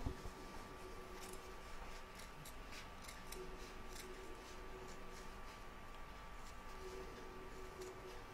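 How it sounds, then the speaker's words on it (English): Scissors trim fabric around the edge of machine embroidery, a quiet series of crisp snips that come in irregular clusters, close and soft against a low background hiss. "we're going to trim up all around the edge, taking care not to cut the stitching"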